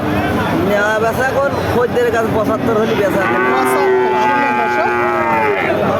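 Heifer cows at a busy cattle market moo loudly and repeatedly up close, with long drawn-out calls overlapping under the chatter of the crowd and someone speaking.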